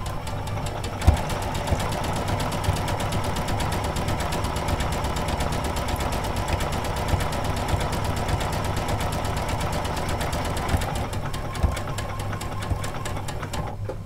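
Janome sewing machine running steadily while stitching around an applique shape with an edge guide foot, a continuous close mechanical whir with a rapid needle rhythm that eases off near the end.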